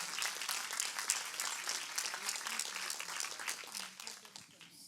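Church congregation applauding during a worship service, a steady wash of many hands clapping at moderate distance that thins toward the end.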